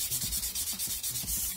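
Sandpaper of 600 grit rubbing over a piece in the last fine sanding pass, a close, steady scratchy hiss with rhythmic back-and-forth strokes about every quarter second.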